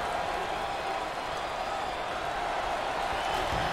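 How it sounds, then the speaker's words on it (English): Home basketball fans at a college tournament semifinal game in Maui roar in a dense, steady wall of cheering and applause that stays loud and sustained throughout, with no breaks. "look at the crowd, and look at the reaction. I think the home fans are going crazy."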